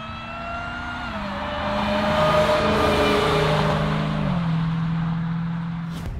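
Dodge Charger Hellcat with a 717 PS supercharged engine accelerating hard, its rising supercharger whine layered over a loud, swelling engine roar that peaks mid-run and then eases off, with no talking.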